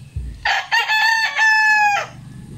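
A mature Filipino labuyo (wild junglefowl) rooster crows once, close and loud, a single drawn-out cock-a-doodle-doo lasting about a second and a half, with no talk over it.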